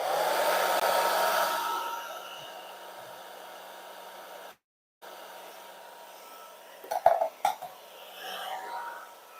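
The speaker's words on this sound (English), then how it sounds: "I'm turning on the blow dryer. Got it on cool, so it doesn't dry the paint." Steady broadband blowing of a hair dryer on low cool setting over wet pour paint, fairly close, with a brief cutout midway and a few soft clicks and rustles near the end.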